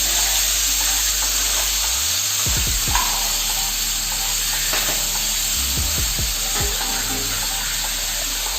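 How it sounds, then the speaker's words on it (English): Chana dal fries in hot oil with a steady, close hiss and bubbling sizzle, interrupted by a few brief clanks from a spatula against the pan. "be very careful while frying the chana dal"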